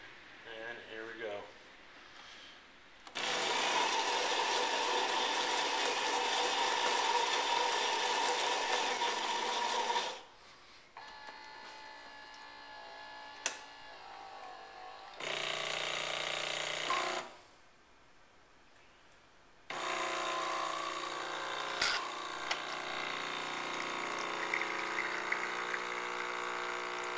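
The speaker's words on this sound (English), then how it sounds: "Has a built-in grinder." A Saeco Odea Giro espresso machine runs its built-in grinder and then brews, giving loud, sustained mechanical whirring and pumping in several long bursts separated by short quiet gaps, close and steady.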